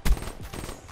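Rapid-fire bursts from an M8 rifle in a video game, a short loud volley of several quick shots that crack up front and then trail into a softer, sustained rattle.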